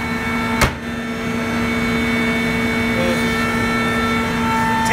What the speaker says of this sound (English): So there's an industrial vacuum that goes through this MDF here